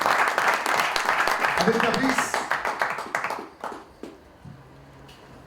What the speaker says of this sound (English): Big round of applause, ladies and